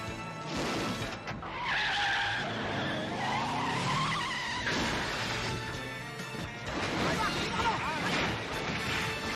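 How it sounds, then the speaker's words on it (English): Tires skid and a car crashes during a movie car chase through woods and countryside, loud and continuous, with a dense music score and effects over the full length. "There is a long car chase through the woods, through the countryside."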